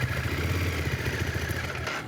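Ducati 848 Streetfighter motorcycle engine firing into life on a weak-sounding battery, a loud close rumble that settles into a steady throbbing idle with mechanical clatter throughout.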